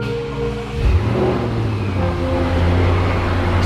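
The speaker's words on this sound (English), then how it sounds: "we're going to get to hear exactly what the exhaust sounds like" A crash-damaged Audi RS6 engine, freshly rebuilt, rumbles close by, briefly blipping up in revs before settling into a deep, steady exhaust burble.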